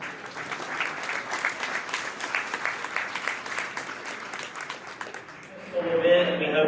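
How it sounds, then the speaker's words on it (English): An audience claps steadily at a high school bass fishing combine event, a sustained round of applause from a crowd, with a voice rising over it near the end. "Let's give them a round of applause."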